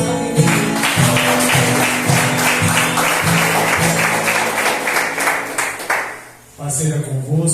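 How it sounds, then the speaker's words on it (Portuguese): Church congregation applauding at a couples' seminar, a dense, loud wash of clapping with steady rhythmic beats from music underneath, dropping briefly near the end before swelling again. "aplaudindo Jesus, família"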